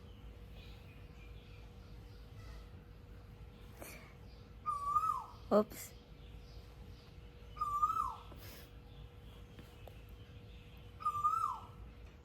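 A bird calls in the morning in Bangkok, Thailand, giving three short, rising whistled phrases spaced a few seconds apart over a quiet background, with one sharp knock in between.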